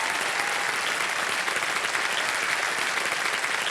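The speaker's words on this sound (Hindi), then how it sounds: "तालियां बज जाएं इनके लिए।" A studio audience on a television quiz show breaks into loud, sustained applause, dense even clapping from many hands with a faint murmur of voices underneath.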